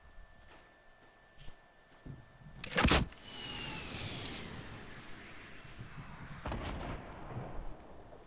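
Gunfire in the Fortnite Battle Royale video game on PS4: a few light shots, then a loud blast around the middle followed by a lingering rumbling tail and another burst of shots later.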